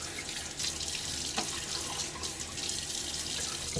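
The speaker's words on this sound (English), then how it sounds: "simple water splash just to kind of start the hairs to be wet" Water splashed onto a face from a running tap at a sink before a shave with a Timeless stainless razor, a steady close wash of faucet flow and splashes with a few sharper drips.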